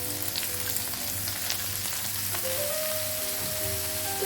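Chopped spinach (palak) sizzling in a pan with onions as Kerala-style meals are cooked, a steady close frying hiss with light crackle and faint stirring, no talk.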